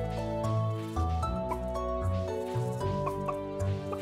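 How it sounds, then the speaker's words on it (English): Chickens cluck softly on a farm in the video game Stardew Valley, with short bird calls mixed into a steady, tuneful in-game music backdrop. "Try to pet the chickens."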